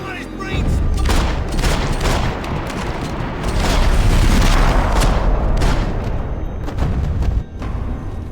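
Dense rapid gunfire and booming blasts in a war shooter video game, a loud continuous barrage of overlapping shots and explosions that barely lets up across the whole stretch.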